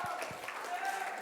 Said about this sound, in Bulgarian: Моля за малко аплодисменти